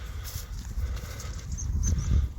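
Ponies walking through a winter field alongside moving cattle, with soft low thuds of hooves and rustling, plus a couple of faint high calls, steady and fairly close.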